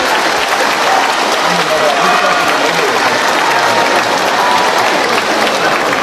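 Sustained audience applause fills a concert hall during a Yue opera performance, a broad, dense roar of many hands clapping at an even, loud level from start to finish.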